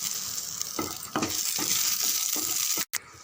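Cumin seeds with dried red and green chilies sautéing in oil in a pan, a steady bright sizzle with a few soft stirring scrapes, close and continuous with no voices.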